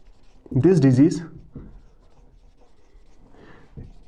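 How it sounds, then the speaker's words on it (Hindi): Writing on a board during a biology lecture, a few faint, short scratching strokes heard after a spoken phrase, sparse and quiet against a near-silent room. "चलो यहाँ पे लिखता हूँ"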